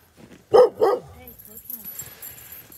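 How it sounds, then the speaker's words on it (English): Sled dogs in Alaska give two loud, close barks in quick succession, followed by quieter background yaps and chatter from other dogs further off. "There must be a dog behind me, of course, because they're all sounding off."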